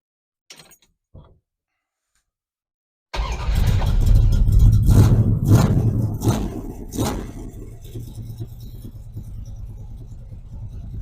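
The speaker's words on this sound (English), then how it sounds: "now we're about to put it on the road and drive to the local gas station" A 1975 Dodge Dart starts up after a couple of faint knocks and silence, then its engine rumbles loudly as it pulls onto the road, with several revving surges before settling into a steady, close driving drone.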